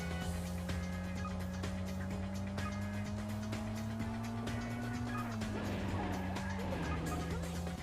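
Steady engine drone of cars driving in a Road Fighter sequel video game, a continuous tone that holds level then dips in pitch partway through, with a constant low hum and no talking.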